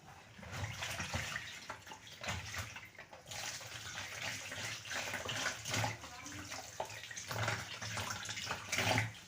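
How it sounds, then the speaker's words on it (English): Vegetable roots caked with mud being washed under a running tap, a steady rush and splash of water with shifting surges and splatters throughout, close and fairly loud, with no one speaking. "Then wash the roots first because they always carry a lot of mud."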